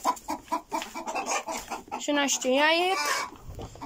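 Hens cluck in a backyard coop during egg collection, a loud squawking call standing out near the end while a person counts aloud over the scattered clucking.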